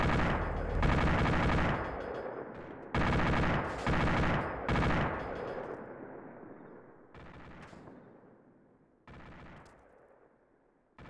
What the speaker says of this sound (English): I hear another 50 cal, but it sounds like he's shooting at us